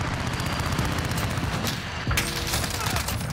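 A rapid automatic weapon firing red tracer rounds in the Modern Warfare video game, with sustained loud bursts of gunfire hammering without pause and a sharper crack near the middle.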